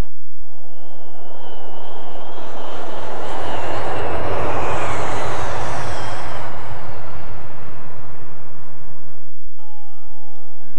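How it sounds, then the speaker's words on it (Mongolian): A low-flying airplane passes overhead near an airport, a loud broad engine roar swelling to a peak midway and fading, then cutting off abruptly. "Онгоц доогуур нисэнэ."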